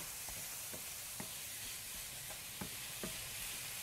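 Ground beef and onions sizzle steadily in a pan, a constant frying hiss broken by a few soft stirring taps and scrapes, fairly quiet and close, with no talking.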